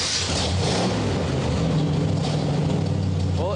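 A custom 1968 MGB with a built 350 engine idles and revs close by, a loud continuous deep rumble rising and falling with throttle.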